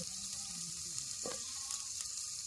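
An onion fries in a hot pan during a village-style chicken curry, making a steady, close hiss and crackle of sizzling oil with faint clinks over it.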